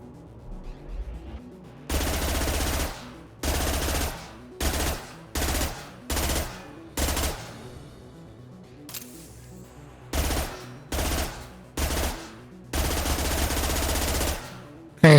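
A heavy weapon fires in Mass Effect 2 in repeated loud bursts of rapid automatic fire, about ten separate volleys of varying length with short silent gaps between them, close and with no voices.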